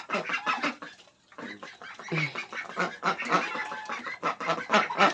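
Pet chicks and young fowl cluck and cheep busily up close, a dense overlapping chatter of calls that keeps going with only a brief lull.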